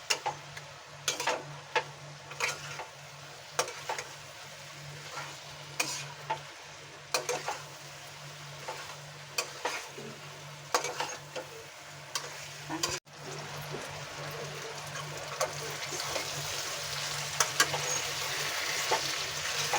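Cauliflower and potato pieces being stirred in a frying pan for a Maharashtrian rassa curry, a steady sizzle with repeated scraping stir strokes throughout, close and moderately loud with no talk.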